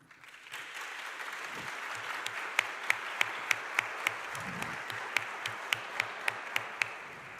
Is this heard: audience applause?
yes